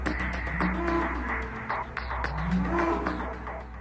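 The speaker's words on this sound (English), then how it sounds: "This cow is technically known as a Belgian Blue" A muscular Belgian Blue cow gives two drawn-out, low moos, close and loud, over a steady low hum.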